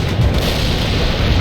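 An artillery barrage in World in Conflict hits as one loud, deep booming rumble that stays dense and sustained with no distinct separate shots.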